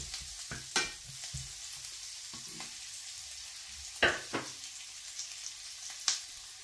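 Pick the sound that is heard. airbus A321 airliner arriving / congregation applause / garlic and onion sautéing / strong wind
garlic and onion sautéing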